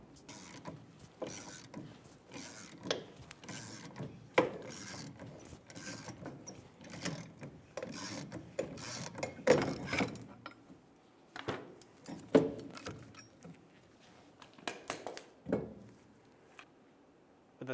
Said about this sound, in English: Start to pull off the drum.